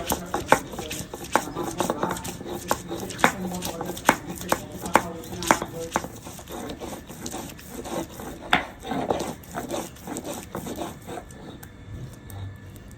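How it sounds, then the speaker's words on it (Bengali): Ginger and garlic being ground into a paste on a stone grinder for a chicken curry, with a rough rhythmic rubbing and repeated sharp knocking strokes, close and steady throughout. "এখন আদা রসুন বেটে নেবো মাংস রান্না হবে"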